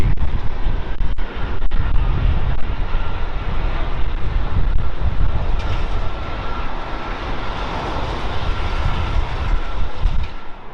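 An Airbus A320 landing after arriving from Helsinki at London Heathrow gives a steady, broad jet roar that holds loud and even throughout, with no voices.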